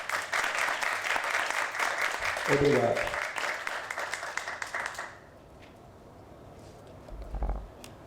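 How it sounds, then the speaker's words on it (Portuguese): A seminar audience on drowning prevention gives a loud round of applause for the lifeguards, a dense crowd clapping for about five seconds before it stops and a single voice speaks briefly. "convidar a todos para dar uma salva de palmas para os nossos guarda-vidas."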